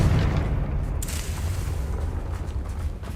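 A Confringo fire spell in the Hogwarts Legacy video game goes off as a deep, loud boom, followed by a rumbling blast that fades slowly.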